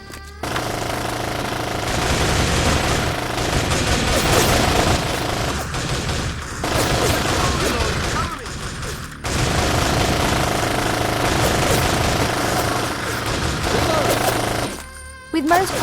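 Gunfire rattles through an Xbox urban warfare shooter, with dense bursts of automatic weapons in rapid sustained volleys, loud and close, broken by a couple of brief pauses and a sudden cutoff near the end.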